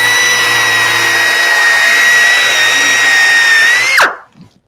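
Dynabrade air sander fitted with a flexible sanding star scuffs a raised panel, giving a loud steady high-pitched whine that holds for about four seconds, then cuts off and spins down abruptly.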